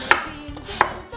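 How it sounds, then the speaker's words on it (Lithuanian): Apples sliced with a knife on a board, producing two sharp, close chopping strikes spaced under a second apart, with no voices. "Supjaustome, tikrai ne labai smulkiam, nesmulkiais griežinėliais."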